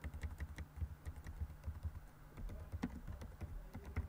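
Computer keyboard typing while renaming an event in the Stencyl game editor, a steady run of quiet, close key clicks with uneven rhythm and no talk.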